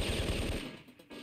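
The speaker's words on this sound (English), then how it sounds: "you're firing machine guns at me" Machine gun fire in Syphon Filter rattles in a quick, loud burst of rapid shots up close, then breaks off, with a brief jolt returning at the very end.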